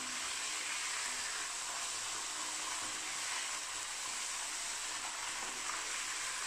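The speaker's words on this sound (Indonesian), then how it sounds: "Kita goreng dulu ya." Boneless chicken fries in reused coconut oil previously used for crackers, giving a steady, dense sizzle and crackle that stays continuous and even throughout, close by, with no voices.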